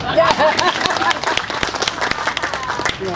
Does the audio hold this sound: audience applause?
yes